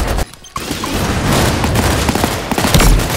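Airstrike explosions in the video game Off The Grid, a rapid barrage of booming blasts and crackling impacts, loud and close, with heavy thuds near the end.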